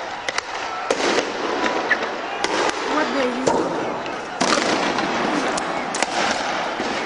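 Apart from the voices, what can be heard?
concussion grenades, tear gas grenades and rubber bullets firing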